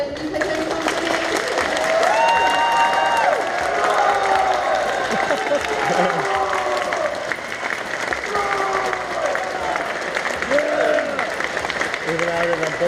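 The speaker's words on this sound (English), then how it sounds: "So one last huge round of applause for UKPC Company." Closing applause and cheering from a crowd at a UK comic con, dense clapping that goes on for several seconds, with people talking over it.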